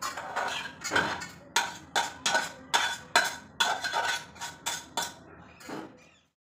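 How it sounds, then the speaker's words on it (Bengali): Dishes, pots and cutlery clattering and clinking during kitchen cleanup, a run of sharp, close knocks and scrapes in irregular rhythm, fading off at the end. "আমি কিচেনটা সাফসাফাই করছি, কিচেনটা ক্লিন করছি"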